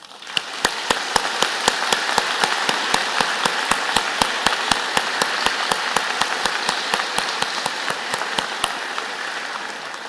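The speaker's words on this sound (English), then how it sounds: "join me and the platform party in thanking them with a vigorous round of applause" Graduation convocation audience applauding in a large hall at a dentistry and pharmacy ceremony, a broad steady wash of clapping under a sharp, evenly spaced rhythmic clap repeating through most of it.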